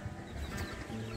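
Chickens cluck in a shed on a home terrace garden, a brief close burst of clucking.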